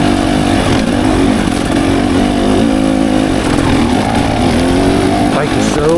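A 2024 KTM 300 XCW two-stroke dirt bike revs hard while being ridden on wet, grippy ground, a loud continuous buzzing engine shifting pitch throughout, with a rider's voice over it.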